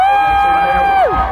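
Audience at the VegasCon 2016 convention cheering and whooping in a brief, fairly loud burst that fades out after about a second.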